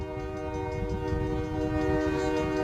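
A 100-year-old passenger train on the Waterloo Central Railway's historic line between St. Jacobs and Elmira sounds a loud, sustained multi-tone horn over the rumble of the moving cars, with no speech.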